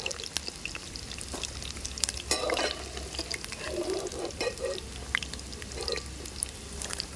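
Potato pieces deep frying in hot oil until crisp and red make a continuous bubbling sizzle, with scattered clinks and stirring as the pieces are lifted out, and a person speaking softly underneath.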